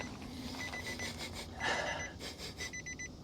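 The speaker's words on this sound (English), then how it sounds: "I hear dinging." Warning chime dinging inside a 2015 Dodge Durango, a steady run of faint, evenly spaced electronic dings over a low background rumble, with no talk.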